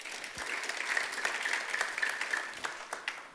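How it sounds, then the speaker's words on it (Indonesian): Seminar audience at a parenting seminar claps together in a steady, moderately distant round of applause, with a faint sustained tone underneath and a few louder claps near the end. "Anda boleh tepuk tangan."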